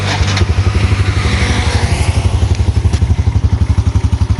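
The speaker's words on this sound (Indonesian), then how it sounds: "Nah berikutnya teman-teman nyalakan mesin." A used motorcycle's engine starts up and settles into a loud, steady idle, its close, regular pulsing thumps filling the clip with no talk over it.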